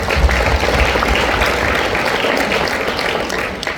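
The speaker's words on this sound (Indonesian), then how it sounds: "Tepuk tangan." A room of listeners breaks into steady applause during a motivational sharing session, a dense, even wash of clapping held at a fairly loud level and fading slightly at the end.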